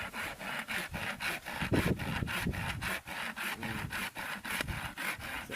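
A hand saw cuts firewood in a rural Philippine yard, the blade rasping through wood in a steady back-and-forth rhythm of about two strokes per second, close and clear, with no talk over it.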